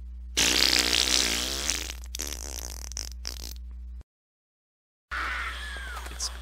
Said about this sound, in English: it makes like a grisly farting sound as he dies